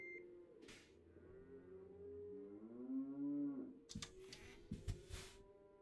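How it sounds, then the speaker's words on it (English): Cattle in a trucking simulation game moo repeatedly in a trailer, long drawn-out bellowing calls rising and falling, followed by a few shorter bursts of clatter, with no talking over them. "Cows are having a fit."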